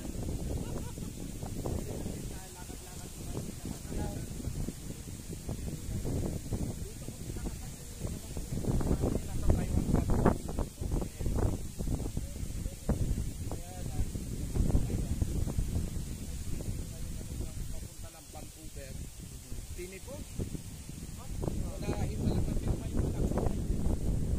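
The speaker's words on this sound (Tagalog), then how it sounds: "Medyo mahangin nga lang" Wind gusts buffet the microphone outdoors in Narra, Palawan, with a low rumbling roar that rises and falls continuously.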